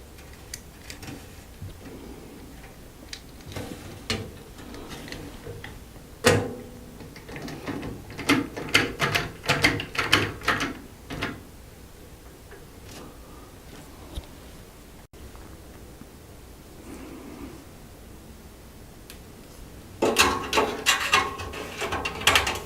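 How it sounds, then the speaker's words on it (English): Motherboard standoffs being tightened into a PC case with a small nut driver, irregular bursts of close metallic clicking and ratcheting between quieter handling noise, with a final flurry near the end. "it's like a little nut driver essentially, and you take the standoffs and then they fit in there, so it can help you tighten them down to the case"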